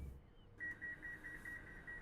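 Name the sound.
train door beeps in Transport Fever 2 video game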